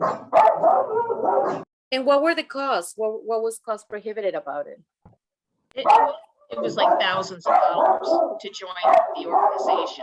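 Dogs bark repeatedly in a short burst of sharp, loud yaps close by, breaking into a conversation between people talking before and after.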